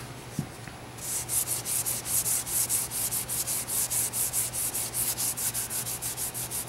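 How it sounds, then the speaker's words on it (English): Gesso-coated canvas edges being sanded by hand, a steady back-and-forth rasping scrub that starts after a second of quiet and repeats in even strokes, close and fairly loud, with no talking. "Okay, so I got all the edges sanded."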